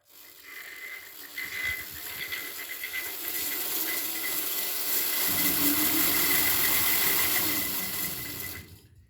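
Motor of a ride-on radio-controlled SW1200 switcher locomotive in 1.5-inch scale on 7.5-inch gauge track, running as a steady electric whine and hum that swells slightly midway and holds, close and fairly loud, with no voices.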